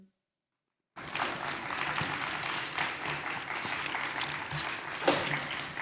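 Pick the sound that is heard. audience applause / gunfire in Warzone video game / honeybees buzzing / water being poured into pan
audience applause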